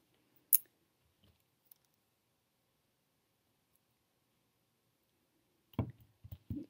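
Small snips of jewelry wire being cut while making fairy earrings with seed beads, a sharp click near the start and a quick cluster of close snips at the end, separated by near silence.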